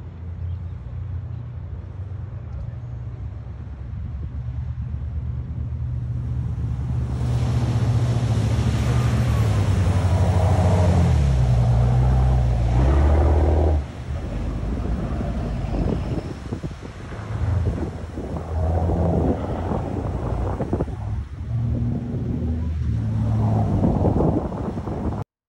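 Boat engines near shore drone and rumble low and steady for a long stretch, with wind buffeting the microphone and rising, surging passages of louder motor noise.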